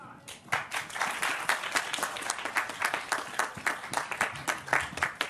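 Continuous clapping from a small audience at a commencement reception for a peace and justice education center, brisk and fairly close, with a voice faintly under it.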